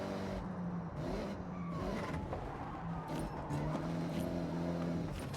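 Dodge Super Bee engine in the Forza Horizon racing game, a steady droning hum with shifting pitch as the car holds speed around a wide curve, continuous and moderately loud throughout.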